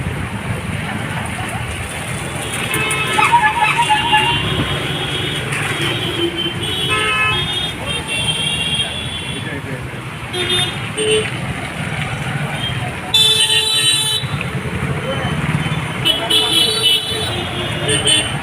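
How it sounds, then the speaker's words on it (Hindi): Cars stuck in a heavy rush-hour traffic jam honk repeatedly, short and longer toots sounding near and far over engine rumble, while someone talks throughout. "देखो गाड़ी बहुत ज़्यादा जाम हो गई है"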